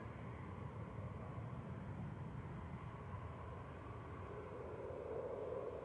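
An EasyJet airliner and a Royal Air Maroc Airbus A340 at Manchester Airport, heard as a low, distant, continuous jet engine rumble.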